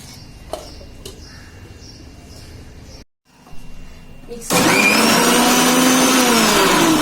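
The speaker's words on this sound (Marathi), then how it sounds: "आता हे मिक्सरला लावून घेते." A kitchen mixer grinder starts up and roars loudly and steadily as it blends coconut, following quieter room sounds and a brief pause.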